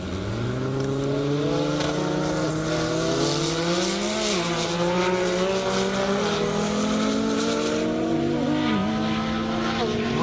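An English Racing Nissan GT-R and an orange Dodge Viper drag race side by side on an airport runway at over 200 mph, their engines roaring loud and sustained with rising pitch through gear changes while an announcer talks over them.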